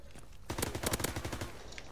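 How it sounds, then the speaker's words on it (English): MP40 submachine gun from Call of Duty WW2 firing a sustained automatic burst of rapid, evenly spaced shots, starting about halfway in and running to the end, loud and close over faint game ambience. "the MP40 is my favorite gun in this game to begin with."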